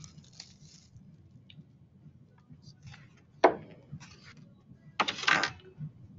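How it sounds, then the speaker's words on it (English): A damp sponge dabs tempera paint onto paper in a few soft, wet squishing pats, with one sharper press midway and a pair of closer, louder dabs near the end over a faint background. "Damp sponge."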